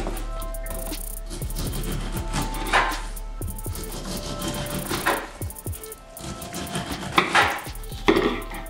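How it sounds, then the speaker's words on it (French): A knife chopping peeled half pineapple into small pieces on a board for mulled wine, giving a run of close, irregular cutting knocks and taps through the clip with no talk. "Et je le coupe en petits morceaux."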